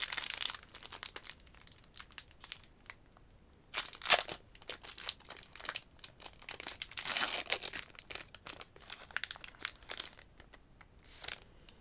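Booster packs of trading cards are torn open and handled, giving bursts of crinkling foil and paper rustle that start and stop irregularly, close and fairly quiet.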